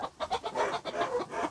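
A chicken clucking close by in a rapid run of short, rhythmic pulses that carry on without pause, heard alone.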